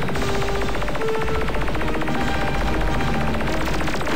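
Continuous rapid gunfire in the video game Ultimate Crab Battle, a loud unbroken machine-gun rattle over dense game effects throughout.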